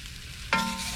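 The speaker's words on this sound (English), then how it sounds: "So now we're going to add our shallots." Shallots hit a hot pan on a narrowboat stove and burst into a steady sizzle halfway through, frying close and loud with no talk.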